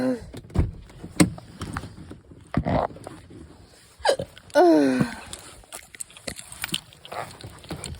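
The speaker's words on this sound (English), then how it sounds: "I'm still hiccuping." Hiccups sound inside a car while driving, several abrupt short bursts scattered unevenly over the stretch, fairly close, with cabin noise and a few other brief vocal noises between them.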